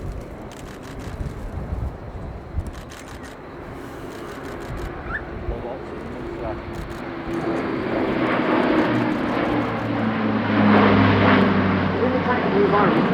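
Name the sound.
Airbus A400M Atlas military transport aircraft flying at airshow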